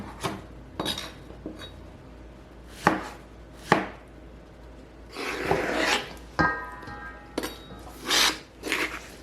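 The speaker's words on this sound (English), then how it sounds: "So I'm just going to be cutting off a lot of the mushy spots that are obviously, you know, not great" A knife cuts mushy spots off fruit for a fermented salsa, giving a series of close, irregular chops and scrapes on a board with occasional soft rubbing between strokes.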